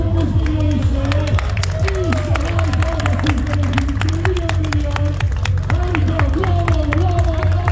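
Crowd at a Turkish youth competition awards ceremony applauds a young champion, rhythmic clapping and cheering over heavy background music and babble, loud and continuous.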